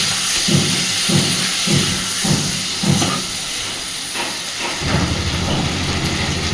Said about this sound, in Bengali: একটু ভাজা ভাজা করে নেবো আগে সুন্দর করে।